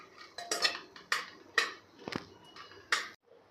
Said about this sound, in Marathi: तर इथे आपण 2 मिनिटे काजू आणि बदाम परतून घेणार आहे।